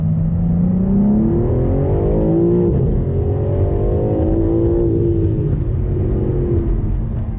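BMW M4 CS accelerating hard through a 30 to 70 mph sprint, loud continuous engine roar with rising pitch through gear changes, heard from inside the car with no talk.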